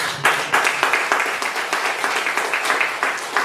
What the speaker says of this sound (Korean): 우리 선교사님들 위해서 좀큰 박수.